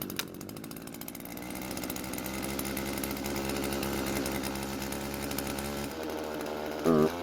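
A small, non-commercial chainsaw runs steadily for several seconds with a sustained buzzing drone that stays fairly level throughout. No one speaks over it.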